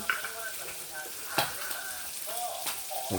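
Salted fish frying in hot oil in a home kitchen, a steady sizzle with occasional louder spits and crackles and a few stirring knocks, close by, under faint background voices.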